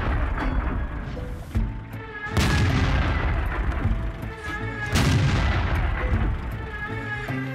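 Tank cannon fire in the World of Tanks game, with a Leopard prototype A firing on a T-69. Heavy booming shots with long rumbling decay, one around the middle and another later, loud against ongoing battle noise.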